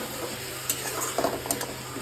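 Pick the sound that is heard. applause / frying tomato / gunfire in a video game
frying tomato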